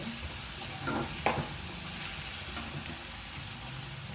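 Mushrooms fry in a pan for a mushroom and cashew masala curry, giving a steady close sizzle with a few scraping stirs of a spoon.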